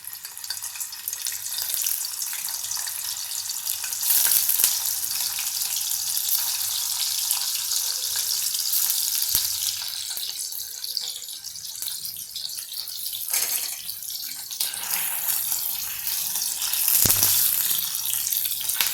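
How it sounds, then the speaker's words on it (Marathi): Large diced paneer sizzles in hot oil in a pan on a gas stove that has been switched off, making a continuous bright hiss that holds steady throughout, with no talking. "पनीर आपल्याला गरम तेलात थोडं साताळायचं आहे"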